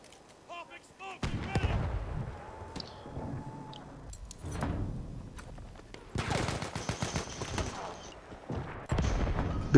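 Rocket guns in a video game match fire in rapid bursts of loud booms and cracks that come and go. A voice talks over parts of the barrage.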